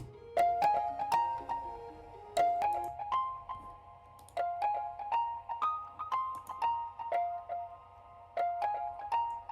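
An Omnisphere synth layer in an FL Studio beat plays a repeating bell-like melodic pattern of plucked notes over a low hum, first with and then without an EQ filter, with no voices.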